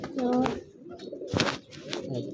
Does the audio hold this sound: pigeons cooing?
yes